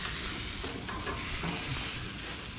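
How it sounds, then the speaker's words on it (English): Steady, close sizzling of a ribeye steak cooking on a grill over high heat, a dense crackling hiss throughout with no talking. "You can hear it sizzling"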